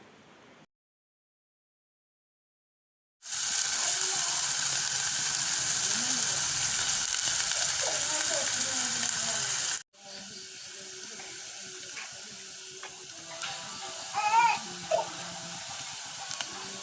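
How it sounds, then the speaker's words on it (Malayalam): Chopped ingredients hitting hot oil in a pan, egg idli preparation: a loud, steady broadband sizzle starts abruptly, runs several seconds, breaks briefly, then continues softer with faint clinks and a little speech-like sound. "ഒരു പാന് അടുപ്പിൽ വെച്ചിട്ട് അതിലേക്ക് എണ്ണ ഒഴിച്ച് എണ്ണ ചൂടാവുമ്പോൾ നമുക്ക് ഈ അരിഞ്ഞു വെച്ച സാധനങ്ങളെല്ലാം ഇട്ടിട്ട് നല്ല പോലെ വഴറ്റി കൊടുക്കാം"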